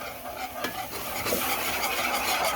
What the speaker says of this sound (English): And you just have to whisk